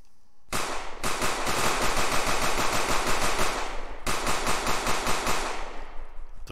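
Rapid automatic gunfire from an AI enemy in an Unreal Engine 4 heist game, a loud continuous burst with a brief break near the middle before the firing resumes.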